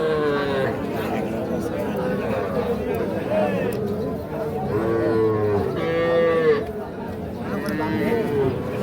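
Young bull calves moo repeatedly at the Ambari cattle market, several long, close calls rising over a steady din of crowd chatter and voices.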